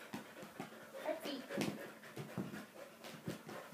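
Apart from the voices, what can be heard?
dog panting and whimpering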